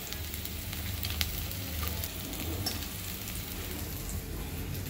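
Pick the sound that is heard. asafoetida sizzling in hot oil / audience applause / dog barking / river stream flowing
asafoetida sizzling in hot oil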